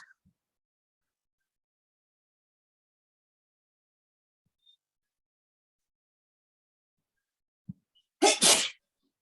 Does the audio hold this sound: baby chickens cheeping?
no